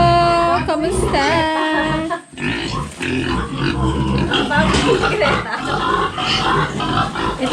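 Pigs on a farm in Occidental Mindoro, not a native breed, grunt and squeal continuously, loud and close, with voices talking over the noise.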